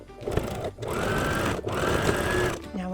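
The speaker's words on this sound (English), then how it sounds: "And then you want to go around doing the top stitch." A sewing machine runs top stitching along a cotton gauze face mask in two steady bursts with a short pause between, close and fairly loud, then stops near the end.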